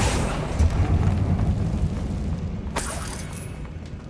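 A Confringo blasting spell explodes in the Hogwarts Legacy video game, a loud sustained booming rumble with crumbling debris, followed by a sharper crack partway through as the blast settles.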